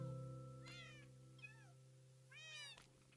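Cats meowing in the Minecraft video game, three short rising-and-falling meows spaced apart over a steady low background hum, fairly close and clear, no voices.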